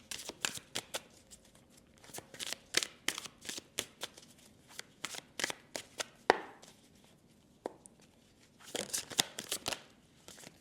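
Tarot cards pulled from a deck and shuffled by hand, a rapid run of crisp riffling flicks and slaps, close and fairly loud, with brief pauses and a denser burst of shuffling near the end.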